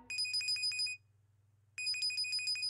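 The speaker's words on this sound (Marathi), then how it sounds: "अरे जयेश दादाचा फोन आहे." Electronic phone ringtone for an incoming call in a Marathi TV serial scene, loud, with two bursts of rapid chiming tones separated by a short pause, over a low steady hum, with no talk.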